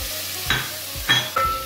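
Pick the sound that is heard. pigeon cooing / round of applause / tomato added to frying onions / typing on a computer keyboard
tomato added to frying onions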